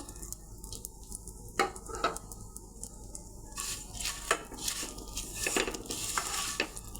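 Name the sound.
vermicelli being fried in a pan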